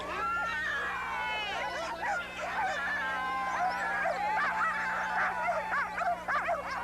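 Sled dogs at the Jr Iditarod start line in Wasilla raise an excited chorus of high, wavering yips, whines and barks, loud and continuous and tightly layered, with a faint low hum beneath them.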